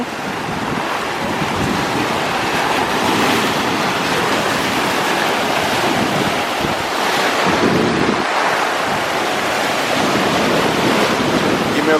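Ocean waves surge and break steadily on a beach, a loud continuous roar of surf mixed with heavy wind buffeting the microphone, with no talk.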